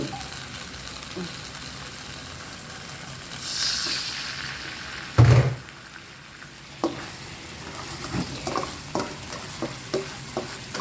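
Catfish and chilies being stir-fried in a wok for a Thai basil dish, giving a steady low sizzle with scraping and stirring clatter and one louder burst of splashing sizzle midway.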